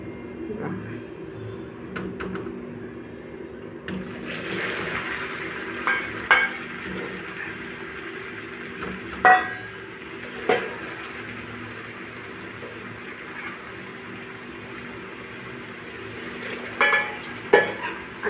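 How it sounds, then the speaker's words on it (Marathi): Chakli dough spirals frying in hot oil, a steady close sizzle and bubbling hiss with occasional sharp crackles and pops, alone without talk. "हे बघा तेल आता कडकडीत तापलेलं आहे. हे मी थोडंसं पीठ टाकून बघितलेलं आहे मध्ये. आता आपण हे चकल्या सोडूया."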